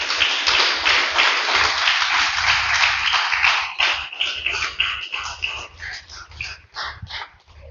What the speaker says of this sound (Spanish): Déselo fuerte el aplauso, aleluya.